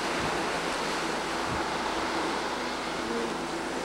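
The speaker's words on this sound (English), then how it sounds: "Look at those waves breaking right against the wall where the sidewalk is and the streets." Ocean waves break against a seawall beside a sidewalk and street in Kailua, producing a continuous loud wash of surf that is mixed with wind rumble on the microphone, with no voices.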